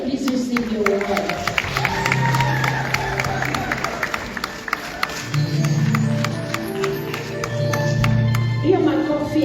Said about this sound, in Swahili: Hiyo makofi haitoshi